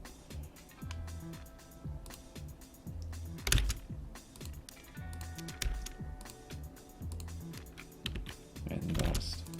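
Computer keyboard typing during AutoCAD drafting: a quick series of close, light key clicks in irregular bursts, with a couple of louder taps and soft mouse-like clicks, no talking.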